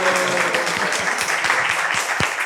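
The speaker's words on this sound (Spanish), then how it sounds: "Es un aplauso real" Live studio audience applauding on a talk show as a guest is welcomed, steady dense clapping with a few louder individual claps, close and sustained throughout.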